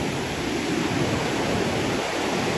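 A flooded river rushing past, a dense continuous roar of churning water that stays even and loud throughout, with no voices over it.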